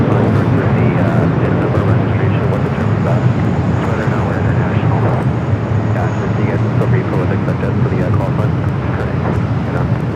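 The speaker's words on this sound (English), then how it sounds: "Next arrival here on the north side is Alaska Airlines Flight 713 coming up from Portland" Alaska Airlines Boeing 737-900ER arriving at LAX on the north side, loud continuous jet roar with wind buffeting, with a person talking over it.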